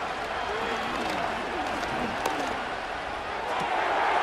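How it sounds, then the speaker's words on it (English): A dense, steady crowd roar in the Madden 25 football video game on PS5, Colts vs Jaguars, swelling slightly louder toward the end, with a few scattered sharp shouts and thumps. "What about this crowd getting even louder before 3rd and 10?"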